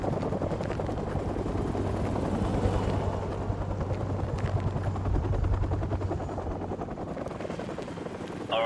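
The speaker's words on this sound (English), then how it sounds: "and the helicopter's back" A helicopter in Call of Duty 4: Modern Warfare Remastered, its steady rotor thrum droning overhead for several seconds, with low engine rumble and a faint crackle of distant gunfire beneath.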